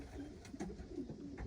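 Racing pigeons coo softly inside a loft, a low continuous murmur of several birds with a few brief louder calls, heard alone without talk.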